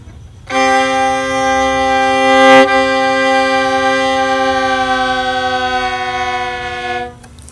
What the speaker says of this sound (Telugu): train sound